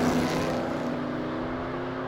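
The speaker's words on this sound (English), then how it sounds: "Here we go again, big revs, and away they go" Loud, sustained engine roar of race cars revving together at a race start, a steady mechanical hum that slowly fades slightly.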